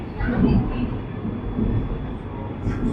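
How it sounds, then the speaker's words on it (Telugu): A Vande Bharat sleeper train starts moving and rumbles steadily on the tracks, a low continuous roar with muffled voices faintly underneath. "మన ట్రైన్ అయితే స్టార్ట్ అయిపోయింది 4:46కి."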